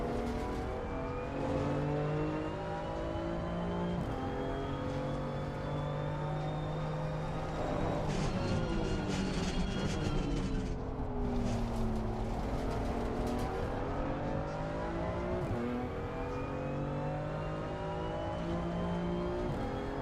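Race car engine in Assetto Corsa Competizione, McLaren GT car, revving hard through repeated upshifts and rising pitch sweeps, loud and continuous with tyre noise, no talking.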